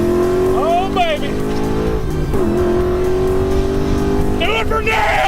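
Ford Mustang engine roaring under hard acceleration in second gear, loud and close with rising revs, tire squeal and people shouting over it.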